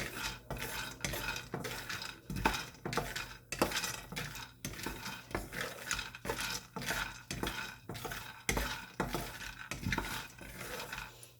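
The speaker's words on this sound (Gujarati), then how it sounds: "એને 10 મિનિટ લાગે શેકાતા આપણે સિંગ દાણા।" Peanuts roasting in a pan on low gas, stirred steadily with a metal spoon that scrapes and clinks against the pan in a continuous rhythmic series of close, moderate strokes.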